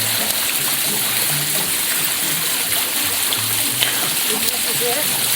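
Water cascades steadily through a custom-built water feature at a winery, a close, constant rushing splash with no pauses, loud and full across the whole stretch.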